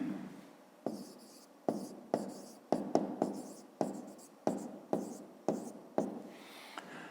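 Chalk or pen writing the second side of a triangle for a fifth-grade maths exercise: a run of about ten sharp scratchy strokes in an irregular rhythm, close and fairly quiet, with no talk.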